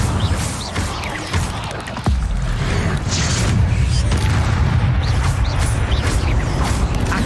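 An Incendio fire spell is cast in a video game, with a sudden boom giving way to a loud, steady whooshing roar that keeps going.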